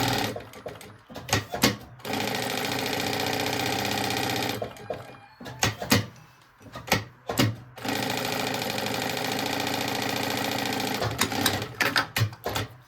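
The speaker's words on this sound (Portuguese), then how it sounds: "E a gente vai fazer um pesponto aqui. Faz uma costurinha de segurança." A sewing machine stitches backpack material in two long, steady runs, close and loud, separated by clicks, knocks and handling of the fabric, with no voices.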